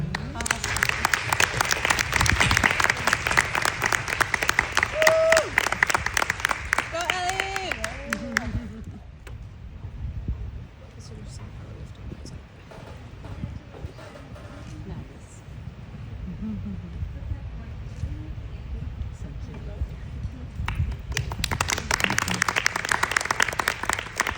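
Applause from an awards-ceremony audience at an International Women's Day event swells loud and dense, fades into quieter murmuring and scattered claps midway, then rises again into a full burst of clapping near the end.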